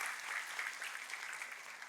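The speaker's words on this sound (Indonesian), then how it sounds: "Tepuk tangannya yang paling meriah buat Tuhan kita." A church congregation claps steadily in a dense, even burst of applause that runs throughout.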